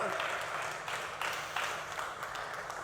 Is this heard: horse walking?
no